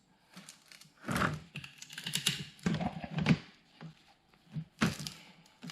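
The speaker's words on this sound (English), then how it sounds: "Let's try using the cutters in a different direction." A Jegs 80586 hose cutter cutting braided PTFE hose, a run of sharp clicking snips and crunches in irregular bursts with pauses between, close and fairly quiet.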